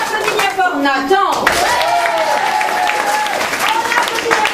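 Sustained clapping from a small crowd fills the whole stretch, close and bright, with a person's voice heard over the applause.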